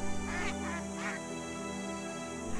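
Ducks quacking, a couple of clear nasal quacks close by in the first second over a steady low background hum, then quieter.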